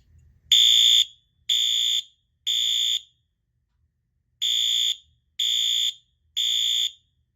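A Wheelock fire alarm horn on low volume, code 3 pattern, sounds six loud, harsh electronic blasts in two groups of three, each about half a second long, with silence in between.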